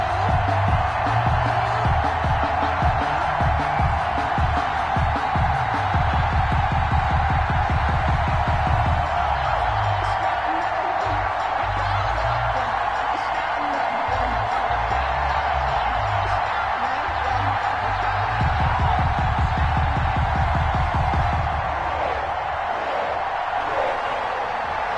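Stadium crowd noise from an EA Sports NFL game, a sold-out Cincinnati crowd cheering for the Bengals against the Tennessee Titans, rolls as a steady broad roar with swelling waves over low rumble.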